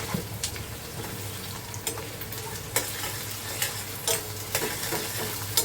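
Softened onion frying in a pan with ginger-garlic paste stirred in for a Sankashti fasting vegetable dish. A steady close sizzle carries sharp scrapes and taps of a spoon against the pan at irregular intervals, with no voices.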